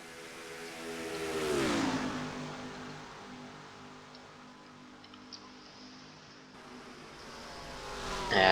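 Stock cars racing at Daytona in the iRacing video game, a dense pack of engine drone swelling as cars pass close and then settling into a steady distant roar, with faint ticking on top.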